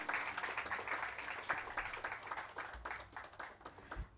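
Audience applause at a university conference in Pune, a quiet, sustained patter of many hands clapping that thins slightly toward the end, heard from a distance.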